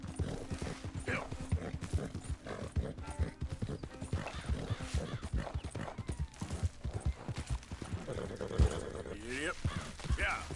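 A horse galloping in the video game Red Dead Redemption 2, rapid rhythmic hoofbeats with occasional snorts and a whinny near the end, fairly quiet, with a person talking over it.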